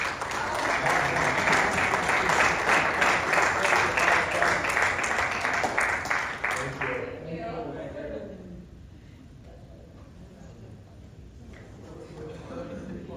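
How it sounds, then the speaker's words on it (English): A university marketing class bursts into applause, dense clapping for about seven seconds that then fades out, leaving quieter room sound and a voice talking at the end. "So let's give a round of applause to motivate."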